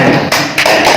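A gavel knocks sharply on a table at a regional council meeting, two loud, close, dry raps in quick succession.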